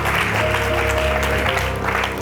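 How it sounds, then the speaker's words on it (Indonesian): A studio audience applauds for a contestant on the Take Me Out Indonesia dating show, a dense, even patter with a steady music bed underneath, no speech. "Boleh kita berikan tepuk tangan buat Rizka."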